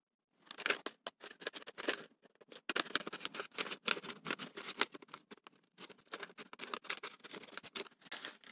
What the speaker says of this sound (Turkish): Şimdi makasla keselim.